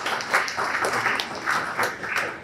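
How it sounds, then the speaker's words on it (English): An audience gives a sustained round of applause for the event sponsors at a broadband and economy panel, a dense, steady wash of clapping with slight swells and no voices over it. "Let's give them a round of applause"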